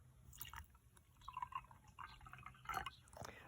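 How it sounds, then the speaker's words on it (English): Water is poured into a jar containing salt, giving a faint, quiet trickle with soft drips and splashes up close. No one speaks. "And then we're going to put our water"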